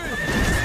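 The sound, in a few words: cartoon horse neighing and galloping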